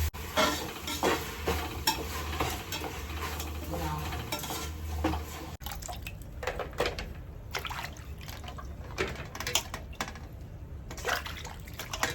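Tomatoes and onions cook down with salt in a pan, a wet sizzle with bubbling and stirring scrapes and pan knocks running for several seconds, a faint voice briefly in the background.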